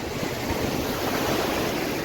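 Sea waves at Gopnath beach on the Gujarat coast roar as a steady, loud wash of surf, with wind buffeting the microphone throughout and no voices.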